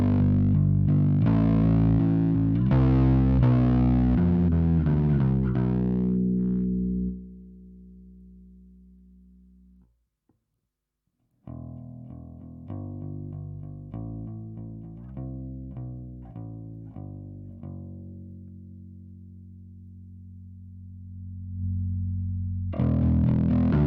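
Bass guitar played through a Pigtone Driver DI pedal with the drive engaged gives thick, distorted sustained notes with a gritty hiss, breaking briefly to silence before more picked phrases and a final chord, no talk.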